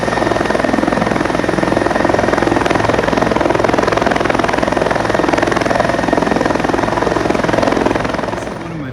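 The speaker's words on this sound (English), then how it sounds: "You can also hear a helicopter in the background." A helicopter searching for a missing person along a river near the Billy Goat Trail on the Potomac, its rotor and engine a loud, steady pulsing roar throughout that fades slightly at the end.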